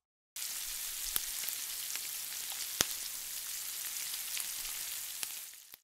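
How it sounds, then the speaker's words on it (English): Bacon bits frying in oil in a pan, a close, dense crackling sizzle that runs steadily throughout, dotted with sharp individual pops and spits. "the sounds used in the extreme close-up shot of the barbecue, which was actually bacon bits being cooked in a pan with oil"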